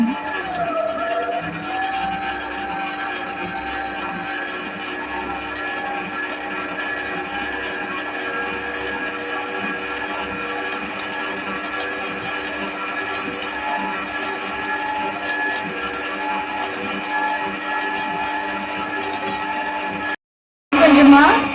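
An electric mixer beats cake batter with sugar, its motor holding a loud, steady droning hum for about twenty seconds, then cutting out briefly before a short louder burst.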